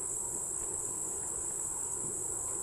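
Honeybees buzz around an open backyard hive during a late-season honey harvest, a steady insect drone mixed with a constant high whine and dense, even background texture, with no voices.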